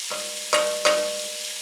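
A spatula stirs onions in a soup pot over low heat, giving three scraping, sizzling strokes close by against a steady background hiss, with no talk.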